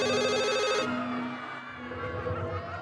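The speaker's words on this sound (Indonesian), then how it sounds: "Telepon saya bunyi." A phone rings with a bright, warbling electronic trill that stops after about a second, followed by a lower, fainter tone and background noise.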